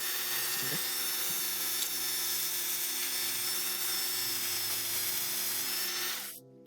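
A small lock pin is sanded with fine 600 grit sandpaper, a continuous close scratchy rasping with a faint whine underneath, steady for about six seconds before it fades out.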